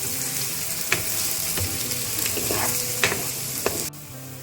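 Onion fries in a pan with a bright, continuous sizzle, marked by a few scraping stirs and clacks and a sudden drop in the hiss near the end, without speech.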